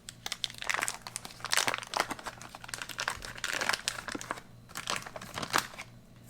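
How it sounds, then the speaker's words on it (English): A 1971 LRRP Special Forces MRE food packet bag being cut open, with close, loud crinkling and crackling of the stiff packaging in busy bursts, ending in brief pauses. "let's just go ahead and slice it across, because we don't want to rip the bag open too far down"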